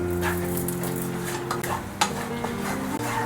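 Cooked pasta tossed and stirred in a hot pan for a spicy Italian-style arrabbiata, with a steady sizzle and scraping utensil strokes, set against continuous background music.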